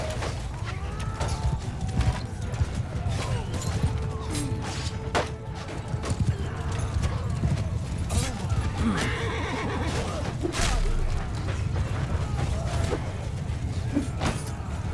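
Horse hooves clip-clop amid a busy Mount & Blade II: Bannerlord battle, with whinnies, clashing and a dense roar of combat noise throughout.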